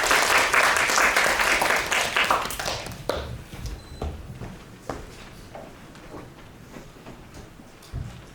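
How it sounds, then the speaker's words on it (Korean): Class applause in a university HCI lecture: a burst of many hands clapping that fades after about three seconds, leaving scattered taps, shuffles and small knocks in a quiet room. "박수 한번 쳐주시고요."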